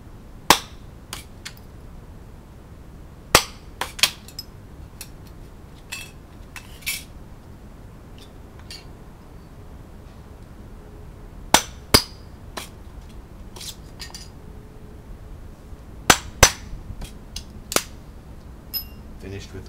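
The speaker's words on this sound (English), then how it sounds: "Finished with the hole punch and the hammer." A hammer driving a hole punch through metal lids, giving sharp isolated clanking strikes scattered irregularly, alone or in small clusters, against a quiet room hum.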